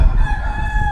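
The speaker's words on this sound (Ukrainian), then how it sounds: "Там ще є півник чуєш кукуріка?" A single loud rooster crow, close and sustained, ringing out over a low rumble of background noise, in Vietnam.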